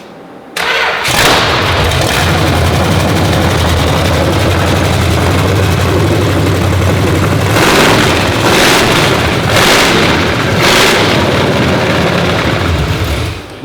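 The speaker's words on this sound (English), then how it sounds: "Now we got an engine for our Charger." A newly installed engine in a Dodge Charger fires up and settles into a steady, loud idle that runs alone for about twelve seconds, with a few brief revs breaking through near the end.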